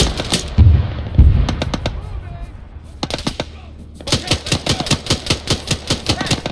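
Gunfire in the military shooter Cold War Rearmed III: a couple of heavy close shots and scattered cracks, then a steady rhythmic burst of automatic fire, loud and near, with faint voices in between.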